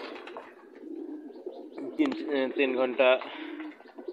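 Pigeons in a loft coo softly and repeatedly at close range, a throaty warbling rising near the end, while someone talks over them.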